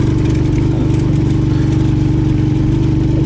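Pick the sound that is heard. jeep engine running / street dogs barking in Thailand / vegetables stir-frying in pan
jeep engine running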